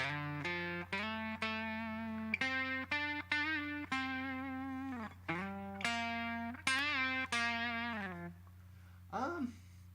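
Distorted electric guitar playing a run of sustained, gritty notes with bends, fairly loud and alone, ending in a short squealing slide.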